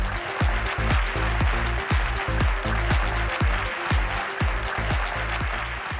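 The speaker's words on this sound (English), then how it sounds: "Let's give it another round of applause for our panelists, for Ashley and Emily." Conference audience at a business event applauds panelists, a dense, continuous wash of clapping, with a strong rhythmic low thumping pulse running underneath throughout.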